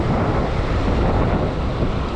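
Surf roars steadily against a rocky fishing point on the coast, a dense, unbroken wash of water noise with heavy wind buffeting the microphone throughout.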